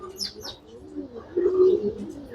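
Soft cooing from a sick pigeon chick nearby, a few low gentle calls with light chirps early on, heard alone without talk.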